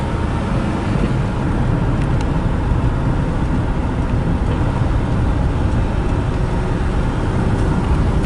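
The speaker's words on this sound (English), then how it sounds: "we want to get going at a pretty good clip and see if the car wanders around." A classic Mercedes-Benz car cruising along a road at a good clip, its steady engine drone and road roar continuous and close throughout with no voices.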